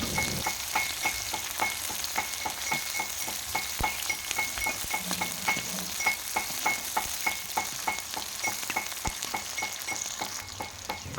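Chopped onions and bay leaves fry in hot oil in a restaurant kitchen, giving a steady, close sizzle with regular stirring scrapes throughout and no talking.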